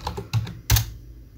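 A few quick keystrokes on a computer keyboard while entering a password, two clear taps and lighter clicks, close and isolated in a quiet room.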